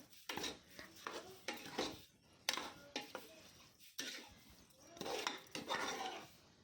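Rice and masala being stirred in a metal pot for egg biryani, with repeated scraping and clanking of a spoon against the pot in irregular bursts, close and moderately loud, with no talking.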